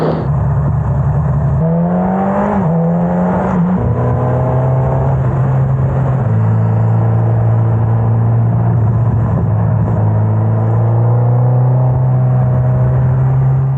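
A motorcycle engine drones steadily while riding winding roads in the Sauerland, its pitch stepping up and down through gear changes and throttle shifts, loud and close throughout.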